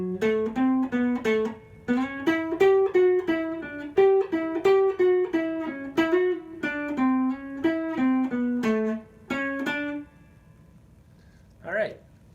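Pickup lead phrase on guitar, a quick run of clean, bright single notes climbing and falling for about ten seconds, followed by a brief pause and a short trailing note.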